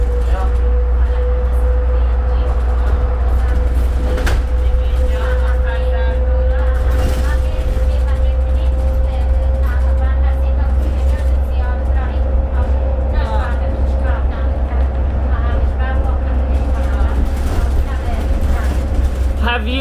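A steady low engine drone and a faint whine fill the cabin of a moving 2003 New Flyer D40LF city bus, with occasional rattles and knocks and muffled voices in the background.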